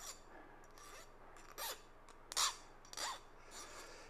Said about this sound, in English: So what I would do is kind of like file this guy down.